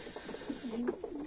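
Pigeons in a loft give a short, soft burst of cooing, several quick low murmured notes close by, with no speech.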